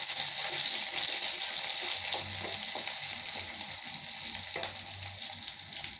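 Onions and garlic sauté in hot oil for a tamarind curry, a steady close sizzle with occasional soft stirring scrapes and no voices.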